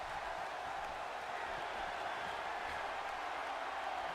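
Steady, distant wrestling crowd roar fills an indoor arena right after a drop kick, a continuous wash of cheering and applause at moderate level with no pauses.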